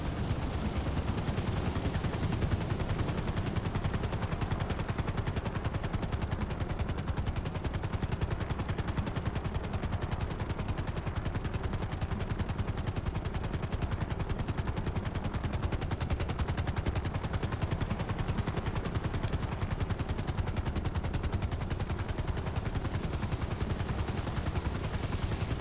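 Continuous dense submachine gun fire in GTA 5 runs without a break, loud and steady, a rapid stream of shots with no talking.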